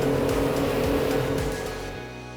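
A HammerCat 35 catamaran drones steadily on one engine at about 21.5 mph, a low, even pitch, loud and close, with rhythmic thumping from the hull, tapering slightly toward the end.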